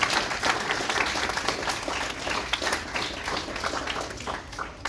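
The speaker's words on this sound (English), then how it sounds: "asking you all, players, to give your parents a round of applause, and parents to give your players a round of applause" Football club players and parents applaud together at an end-of-season gathering, a steady wash of many hands clapping at once with a few sharper claps standing out, continuous throughout.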